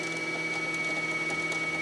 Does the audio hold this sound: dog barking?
no